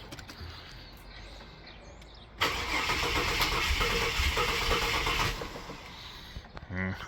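Ford AU Fairlane engine nearly out of fuel cranks and catches for about three seconds of rough running before cutting out, close and loud, with a short clatter afterward.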